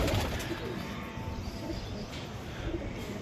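Pigeons of a rare breeding pair cooing close by, a few soft low coos over a quiet, busy background with no clear talk.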